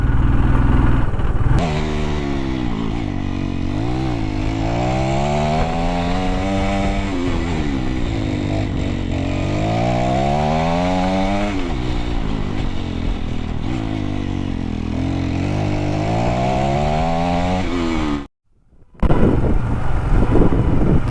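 Motorcycle climbing a mountain road in second gear toward North Sikkim, its engine droning loud and steady with rising and falling revs under heavy wind buffeting, cut by a brief dropout near the end.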